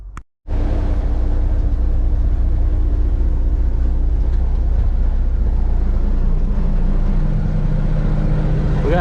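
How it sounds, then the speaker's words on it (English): A truck engine idles loudly and steadily up close, its exhaust leaks adding to a deep, constant rumble that starts abruptly after a brief silent moment and holds for several seconds. "We got a couple exhaust leaks."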